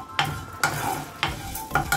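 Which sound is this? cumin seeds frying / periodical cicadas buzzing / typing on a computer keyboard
cumin seeds frying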